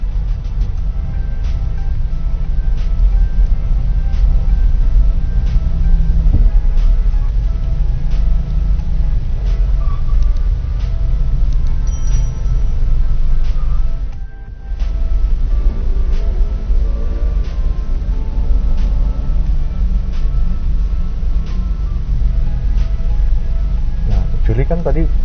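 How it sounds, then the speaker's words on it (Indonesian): Road traffic in a jam with motorcycles passing, heard as a constant low engine rumble with occasional vehicles moving by, under a person talking almost throughout. "Cocok nih yang lagi macet ya kan, motor-motor lewat gitu kan"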